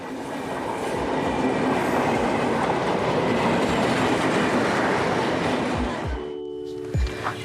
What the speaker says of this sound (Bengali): ট্রেন আসে, ট্রেন যায়,